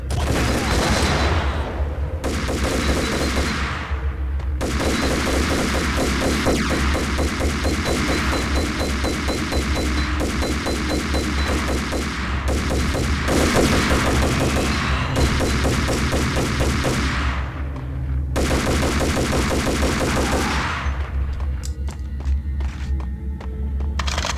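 Dense, continuous gunfire from the Max Payne shooter game: rapid cracking shots and impacts crowd together over a steady low throb, with brief gaps before the barrage resumes, loud and unbroken throughout.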